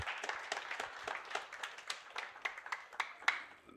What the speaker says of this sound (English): Another hand clap for him, please.